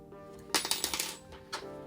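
A bezel insert on a GMT watch is pressed into place, giving a quick run of small, sharp metallic clicks up close, then a final click after a short pause.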